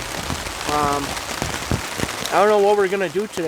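Rain falling on a camp in the Canadian wilderness during hammock camping, a steady patter with close drops hitting a surface, under a voice.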